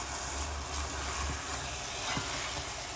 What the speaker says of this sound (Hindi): और इसको अच्छी तरह भून लेते हैं 5-6 मिनट।